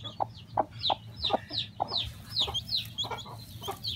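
A mother hen clucks near a newly hatched chick: a quick run of soft, repeated clucks close by, rhythmic and fairly quiet, with faint high peeping mixed in.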